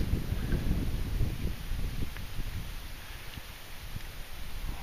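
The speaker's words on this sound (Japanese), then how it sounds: "のぞりこは南風か北風が大体吹いております。" A north wind blows across a mountain lake, buffeting the microphone with steady low rumbling gusts throughout, fairly faint with no other clear sounds.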